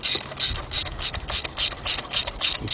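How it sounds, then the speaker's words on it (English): A 3/8-inch drive hand ratchet tightens spark plugs on a 2012 Ford F-150 FX2 with the 3.5 engine, giving about nine rhythmic bursts of pawl clicking, close and clear, each stroke separated by brief pauses. "You're gonna grab your 3/8 drive ratchet"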